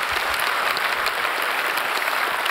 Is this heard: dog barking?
no